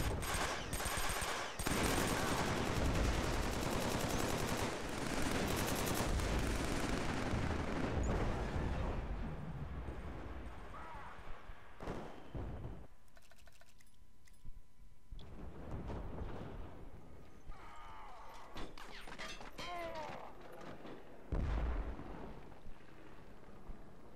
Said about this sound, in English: Incoming mortar strike.